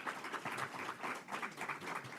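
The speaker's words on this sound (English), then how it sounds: "That probably does deserve a round of applause." Faint, distant applause from a gathering at the launch of a guaranteed basic income pilot program in Prince George's County, pulsing in a few soft waves.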